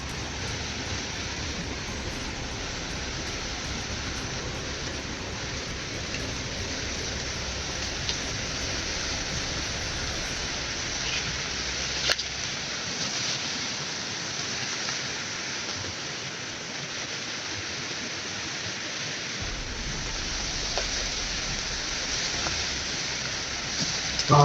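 Heavy rain pours in a steady, dense roar that holds constant throughout, loud and close, with a brief low rumble dropping out midway and no voices.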